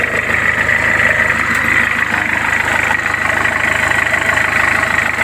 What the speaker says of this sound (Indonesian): ini untuk mesinnya mesin masih bagus